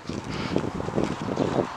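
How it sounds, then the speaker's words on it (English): Steady wind rushing and buffeting against the microphone outdoors, loud and continuous, with a low rumble throughout and no speech. "the wind's coming"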